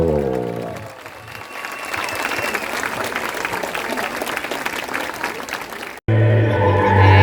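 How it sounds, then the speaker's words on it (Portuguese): An audience at a cultural dance show at the Marco das Três Fronteiras applauds. Dense, steady clapping and crowd noise go on for several seconds, then cut off abruptly into different sound. "Um grande aplauso."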